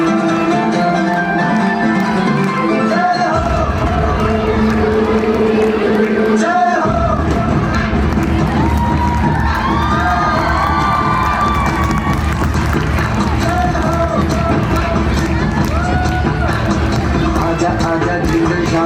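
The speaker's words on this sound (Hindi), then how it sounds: "भरपूर तालियों के साथ, जोरदार तालियों के साथ उनका स्वागत है।" A large crowd at an intercollegiate sports fest cheers, shouts and claps continuously for a martial arts demonstration, a loud, dense roar with no letup.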